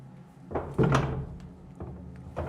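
A heavy metal door on a WWII six-inch naval gun powder hoist aboard the USS Little Rock swings shut with a solid close thunk, followed by a few lighter knocks and rattles.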